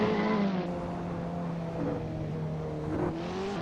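An Abarth 500 in the Assetto Corsa racing game at the Pau street circuit gives a continuous engine drone whose pitch rises and shifts through gear changes, heard alone at moderate level.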